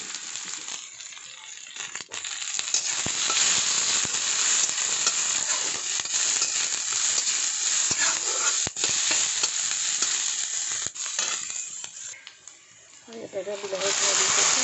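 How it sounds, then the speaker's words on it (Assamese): Panch phoron spices frying in hot oil, a steady loud sizzle with stirring scrapes and a few sharp ticks, dipping briefly near the end, while someone talks over it. "ইয়াতে মই এতিয়া তেলত পাঁচফোৰণ দিম কেইটামান।"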